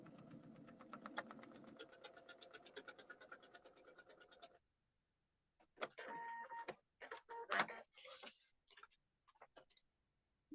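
A sewing machine stitching quilt pieces runs in a steady fast mechanical rhythm for several seconds, then stops, followed by short clicks and handling noises, fairly quiet and close.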